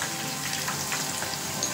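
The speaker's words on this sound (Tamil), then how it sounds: "இது பக்கத்தில் பாருங்கள் நல்லா கொதிச்சுக்கிட்டு இருக்கு" Egg kofta curry bubbling in a pot on the stove, a steady close simmering hiss with faint popping, no voices.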